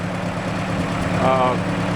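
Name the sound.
1955 Ford 800 tractor engine running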